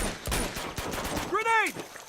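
Gunshots in the video game Uncharted crack out as a few sharp, separate reports, with a brief voice rising over the tail end.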